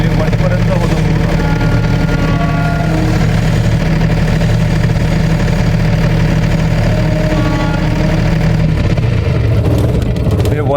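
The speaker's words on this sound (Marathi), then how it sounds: "रेड बटन दाबली की जनरेटर कूल डाऊन म्हणून घेऊन येतं" Generator engine running in cool-down mode, a loud steady low drone with a constant hum, close and unbroken, with a voice talking over it.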